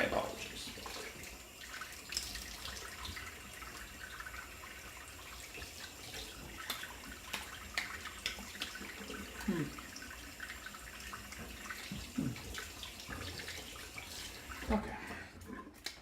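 Tap water runs continuously into a sink during a rinse after shaving, a steady hiss of splashing water with occasional small clinks and drips, close by, with no voices.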